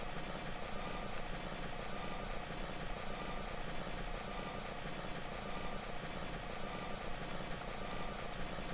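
A light plane's engine in Kerbal Space Program runs as a continuous, even drone with a dense rumbling texture, holding steady throughout with no talk over it.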